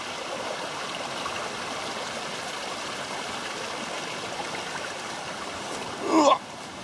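Water tumbling steadily down a stream at Rainbow/Mulangong Falls in Macquarie Pass National Park on the Illawarra Escarpment, a constant rushing wash heard close up, with a brief louder splash near the end.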